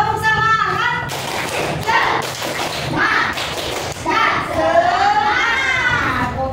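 An Indonesian classroom does a rhythmic spirit clap during a lesson, with dense overlapping claps and thumps and children's voices shouting along throughout, loud and close.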